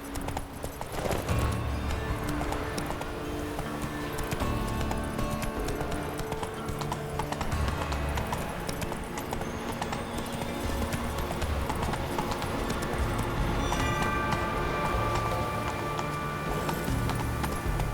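Horse galloping in The Witcher 3 video game, a quick steady clip-clop of hooves with occasional whinnies, set against game music and ambience.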